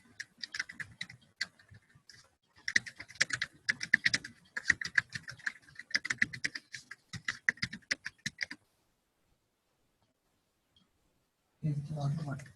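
Steady typing on a computer keyboard, clustered key clicks in quick bursts with short pauses for several seconds, close and clear, then silence and a voice at the end.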